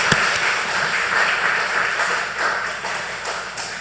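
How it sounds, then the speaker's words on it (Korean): A church congregation applauds as a preacher is welcomed to speak, producing a dense, even wash of many hands clapping at moderate distance, with sharper individual claps standing out now and then. "우리 박수로 우리 함께 모시도록 하겠습니다"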